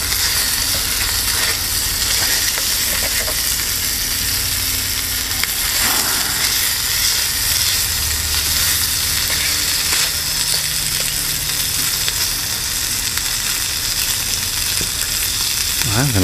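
Bacon and eggs fry on a Solo Stove alcohol burner in a Solo double-wall pot, with a loud, steady sizzle throughout and occasional light scraping and clinking from stirring.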